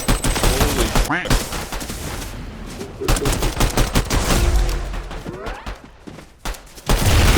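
Rapid bursts of gunfire in the video game Fortnite Ballistic crack repeatedly and loudly in quick clusters, with dense volleys separated by brief lulls.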